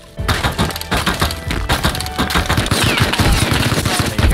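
Gunfire in the survival game Rust, a dense, loud barrage of rapid shots and impacts with cracking, splintering hits, continuous throughout and no talking.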